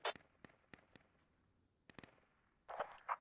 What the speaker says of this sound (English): Shots being traded over here on the right flank now.